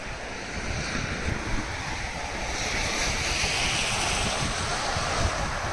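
Sea waves wash ashore at Key West, Florida, a continuous broad surf rush that swells slightly louder partway through, mixed with gusty wind buffeting the microphone.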